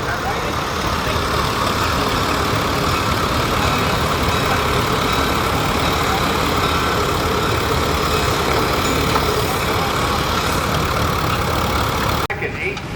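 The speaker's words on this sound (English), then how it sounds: "And here we have a small steam engine." Small steam engine running at a tractor show, heard as a steady, continuous low engine rumble and hum close by, constant throughout with a sudden drop at the very end; a voice speaks over it.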